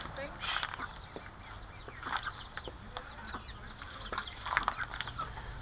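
Young chickens cluck and cheep inside a backyard coop, soft scattered calls rising now and then above a steady low background hum, fairly faint and close by.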